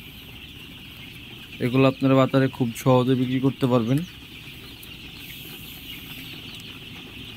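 Sonali super hybrid chickens on a farm give a short burst of loud, close, rhythmic clucks over a steady background hum, while someone talks nearby.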